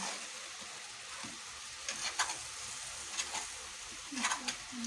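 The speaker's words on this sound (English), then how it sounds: "So that right there is our egg being frying." Steady sizzling of an egg frying in a pan, a constant crackling hiss with occasional sharper pops, fairly quiet and close.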